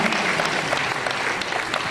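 A crowd applauds steadily for a birthday at a public event with Union Minister Shivraj Singh Chouhan, the dense clapping sustained and fairly loud from start to finish.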